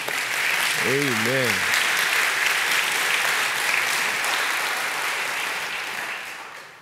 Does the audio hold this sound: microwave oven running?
no